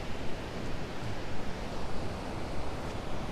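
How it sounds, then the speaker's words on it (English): Rushing water from a waterfall near a bridge in Monocacy Park, a steady broadband roar with no talking, close and moderately loud throughout. "just up ahead is a beautiful waterfalls right past that beautiful bridge."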